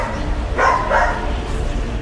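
Dogs barking at night in a neighbourhood street, two or three short barks heard at a distance over a constant, noisy background hum.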